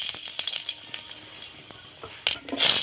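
Whole cumin seeds and dried chilli dropped into hot mustard oil hiss and crackle, with irregular pops over a steady sizzle that swells louder at the end.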